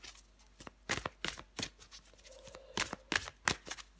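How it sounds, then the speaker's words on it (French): Tarot cards are handled and drawn from a deck during a reading, a quick run of crisp flicks, slides and snaps close up, with a faint voice murmuring briefly underneath. "Je prends encore une carte pour vous, les vierges."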